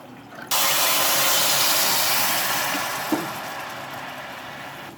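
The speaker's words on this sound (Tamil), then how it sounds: "1/4 கப்பு தண்ணி ஊற்றணும்." Water poured into white sugar in a pan for sugar syrup, a sudden loud hissing rush that starts abruptly, then slowly eases off and fades.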